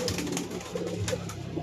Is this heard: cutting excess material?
no